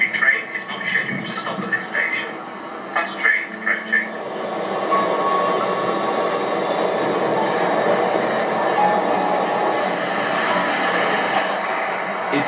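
A train passes on the line outside during a run of LNER steam locomotive 60163 Tornado at speed, a broad steady rushing roar that builds and holds, with someone narrating over it.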